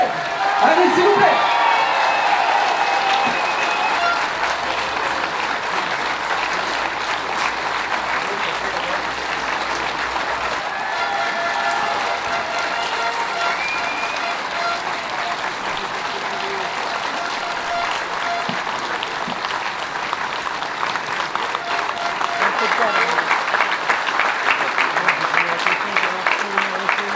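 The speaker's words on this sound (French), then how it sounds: "Je voudrais que vous fassiez une salle d'applaudissements, cette fois-ci une véritable ovation comme vous savez le faire en Vendée." A large crowd at a sailing race prize-giving ceremony in Vendée gives a long, loud ovation, sustained dense clapping with scattered cheers and whoops, swelling again toward the end.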